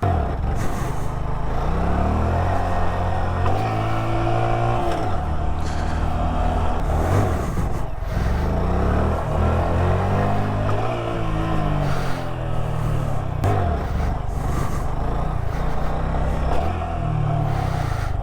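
A motorcycle engine revs hard and steadily through repeated rising and falling pitch sweeps during wheelie stunt practice, loud and close, with no voices.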